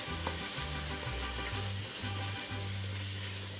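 Spices such as cayenne and dried oregano sauté in a pan with a constant close sizzle over a humming background, and there is no talk.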